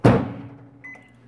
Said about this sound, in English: Let's put it back in the microwave